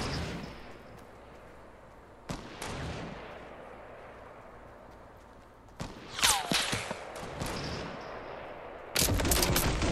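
Gunfire in an online shooter game aimed at a tree, heard as sharp isolated reports at first, then a loud cluster of shots with ringing tails and a dense burst near the end over a steady background.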